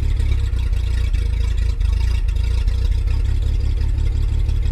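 A 1936 Bentley drophead coupe, revived after about fifty years of barn storage, idles with a loud, steady low rumble and even, rapid firing pulses close by.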